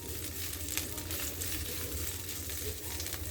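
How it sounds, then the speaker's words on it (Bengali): Capsicum sautéing in ghee for an egg korma, a soft, steady sizzle that stays fairly faint and even throughout, with no speech. "হালকা একটু সটে করে নেব,"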